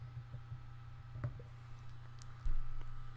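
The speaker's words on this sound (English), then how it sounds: "And I can just keep typing to my heart's content." Soft, sparse taps on an iPad's on-screen keyboard make a few faint clicks over a steady low hum.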